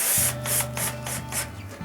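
A power drill drives a metal screw into a plastic fitting on a clothes washer: a low, steady motor whine runs for under two seconds beneath rhythmic hissing pulses, close up and alone.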